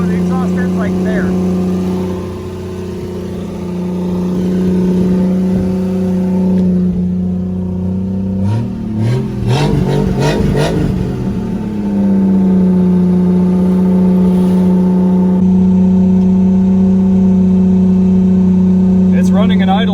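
A Plymouth Valiant's engine runs with its catalytic converter cut off, so the exhaust ends early and drones loudly and steadily up close, with a burst of revving midway and people talking over it throughout.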